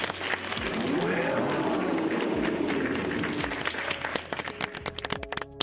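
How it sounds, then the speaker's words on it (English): A single person claps hands, producing a quick run of sharp, close claps near the end after a stretch of dense, noisy background. "So I'll clap."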